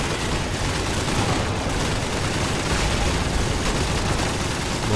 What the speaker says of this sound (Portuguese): Muito tiro.